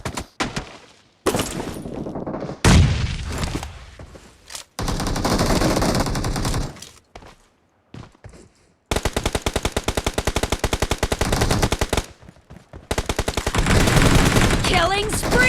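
Video game gunfire crackles in rapid automatic bursts, loud and close, separated by brief pauses and a few single shots, with game announcer voices occasionally heard between volleys.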